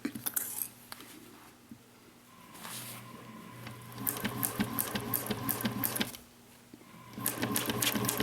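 A sewing machine back stitches across a seam on a mini box tote, running in several short bursts of rapid, close mechanical stitching with brief pauses and small handling clicks between them.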